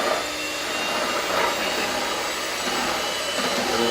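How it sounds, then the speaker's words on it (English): An electric mixer whisks chocolate lava cake batter, giving a steady, loud motor whir that holds for the whole stretch with slight rises and dips as the beaters work the mixture. "I'm just going to turn it on very gently, and I'm going to whisk it until we've got a bit"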